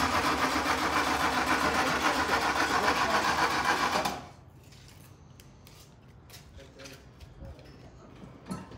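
A motorcycle engine runs loud and close with a rapid, buzzing rattle for about four seconds, then abruptly cuts out, leaving a quiet background with faint scattered knocks.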